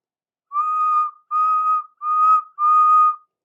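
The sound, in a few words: steam engine whistle signal, animated train story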